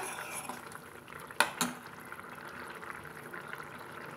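Sundakkai tamarind curry (kuzhambu) simmers in a pot until the oil separates at the edges. A soft, continuous bubbling is briefly broken by two sharp metal clinks of a spoon against the pot.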